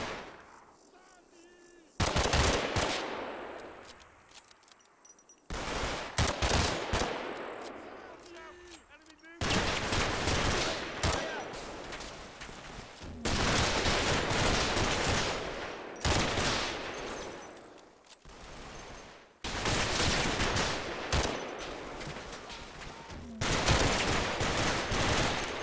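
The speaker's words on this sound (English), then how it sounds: "Just as one section opened fire, the SS begin their attack upon my right flank." Gunfire in the World War II tactics game Combat Mission during an SS attack on a flank in Operation Epsom, loud sustained bursts of automatic fire and volleys that cut in and out across several long stretches.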